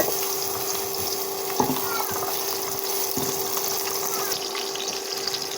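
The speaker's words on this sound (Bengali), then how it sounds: "আলুটাকে আগে ভেজে নিয়ে রাখতে হবে।" Potatoes fry in hot oil in a pan with cumin, giving a continuous even sizzling hiss, moderately loud, with a few faint knocks.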